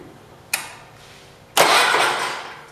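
A 1977 John Deere 212 lawn tractor engine that sat for four months cranks over in two bursts: a short sharp one, then a longer sustained grinding crank that slowly fades.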